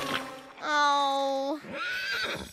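A cartoon horse gives a loud, close whinny with a long held middle and a shorter wavering tail, stuck in a giant mud puddle in a kids' cowboy episode.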